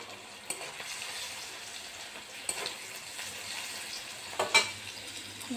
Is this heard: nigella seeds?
yes